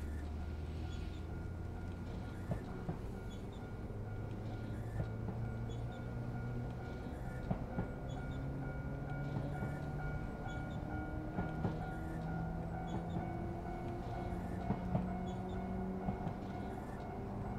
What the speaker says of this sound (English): it's an electric train that sounds good